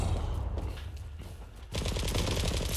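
Gunfire in the online shooter Zula, a loud burst of rapid automatic shots, a short pause, then a second dense burst of fire to the end, with no talk over it.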